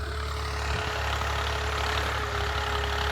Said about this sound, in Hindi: इसी वजह से बार बार ट्रैक्टर जो अंदर चला रहे हैं